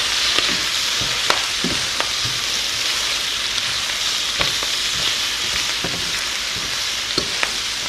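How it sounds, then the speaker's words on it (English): Collard greens sautéing in a pan with red onion and crispy bacon, giving a loud, steady sizzle broken by sharp crackles and stirring scrapes at irregular moments. "We're just going to saute these leaves for a little bit till they start to cook down a little and get a little more tender"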